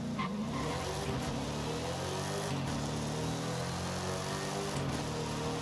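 A Cobra Mustang launching from launch control in Forza Horizon 5: a steady, loud engine roar holds throughout with tire squeal, and brief revving surges recur, with no voices.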